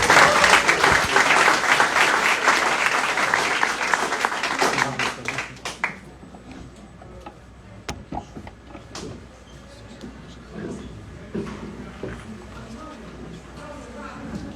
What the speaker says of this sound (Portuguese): Dê uma salva de palmas pela vida de Deus